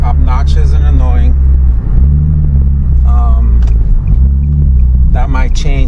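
A Nissan 370Z with an ISR Y-pipe and single exit exhaust gives a deep, steady low rumble, as if idling or cruising gently. Someone talks over it almost throughout.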